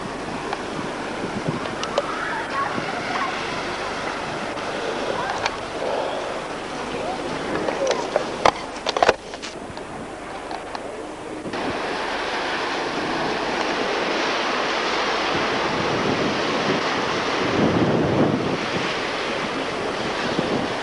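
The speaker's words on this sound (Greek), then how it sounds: "Είναι το ποτάμι που βγαίνει έξω." River water flowing out into the sea at Sidari on Corfu, heard as a steady broadband wash of surf and running water with gusty wind buffeting the microphone, a few sharp knocks midway, and a louder stretch in the second half.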